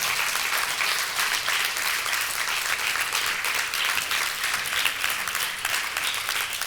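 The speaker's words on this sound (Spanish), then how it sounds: "¿Cuántos todavía le pueden dar un fuerte aplauso al Rey bendito?" A congregation at a church worship service claps loudly and densely for several seconds, a continuous, even wash of hands with no speech over it.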